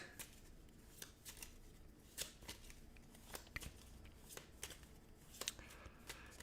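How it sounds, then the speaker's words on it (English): A deck of board game cards for Dead of Winter gets shuffled by hand, a quiet close series of riffling flutters and soft snaps repeating in quick irregular bursts, with no talking. "we're going to shuffle, shuffle, shuffle"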